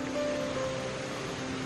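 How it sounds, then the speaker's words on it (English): Raymondskill Falls in the Poconos rushes as a steady, broadband roar of falling water, continuous and unbroken, heard from some distance along a trail with no talk. "So you can hear the falls now."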